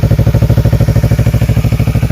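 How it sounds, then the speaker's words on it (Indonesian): Yamaha MT-25 motorcycle idling close up through the stock exhaust with a cut filter, a loud, even, rapid pulsing thrum with a slight clatter. "beginilah suara dari knalpot standar"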